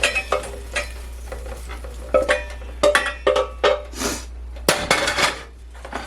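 Onions tipped into a pan of ham for jambalaya and stirred, with a run of clattering scrapes and utensil knocks against the pan, loud and close, over a faint sizzle.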